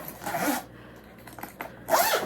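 A zipper pulled along one side of a fabric camping kitchen organizer bag, two short close zips separated by a quieter pause with light handling rustle.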